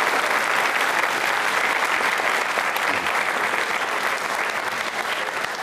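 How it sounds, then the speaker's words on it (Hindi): Loud, sustained applause from a school audience at a consumer-rights quiz show, cheering a visiting food minister, dense clapping filling the whole stretch without letup. "तालियां जोरों से बजाइए, जोर से बजनी चाहिए।"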